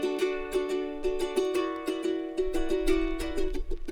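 A bright, steady instrumental beat plays alone, with a repeating melodic figure over crisp rhythmic hits at a moderate tempo.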